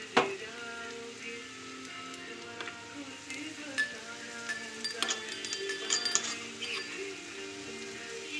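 Crushed garlic goes into hot kachchi ghani mustard oil and fries with a soft, steady sizzle, broken by a few light clinks of a utensil against the pan.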